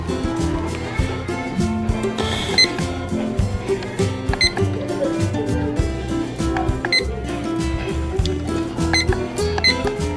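A battery-powered alarm clock gives repeated short electronic beeps over a busy, dense background of music-like tones, the chirps recurring every second or so.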